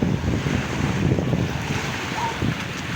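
Sea waves wash and rumble amid strong wind buffeting the microphone, a continuous outdoor roar with no clear voices.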